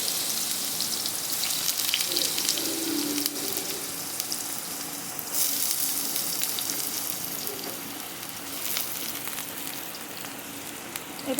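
Potato pieces sizzle and crackle in hot oil with dried chilli, bay leaf and panch phoron, a steady close frying hiss with brief louder spits and bursts.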